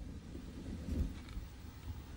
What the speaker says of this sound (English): When the rain rolls in